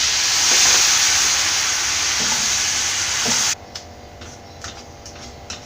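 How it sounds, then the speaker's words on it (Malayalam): Water poured into potato masala in a hot pan for Kerala-style masala dosa filling makes a loud, steady hiss and sizzle that cuts off abruptly, followed by soft ticks and light bubbling. "ഇതിലേക്ക് കുറച്ച് വെള്ളം ഒഴിച്ചു കൊടുക്കാം"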